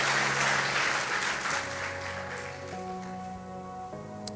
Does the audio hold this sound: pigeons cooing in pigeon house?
no